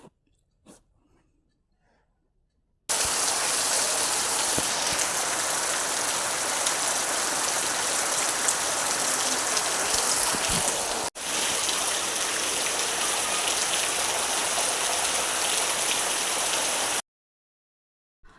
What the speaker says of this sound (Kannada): ಮಳೆಯ ಜೊತೆ ಪರಿಸರವನ್ನು ನೋಡ್ತಾ ಇದ್ದೇನೆ